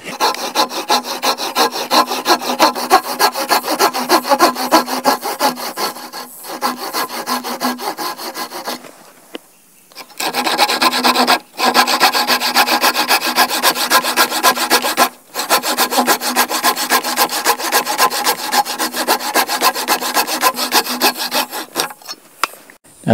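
A hand saw cuts straight across a wooden half log for a dovetail log cabin, with steady, rhythmic rasping strokes that are loud and close. Short pauses break up the sawing.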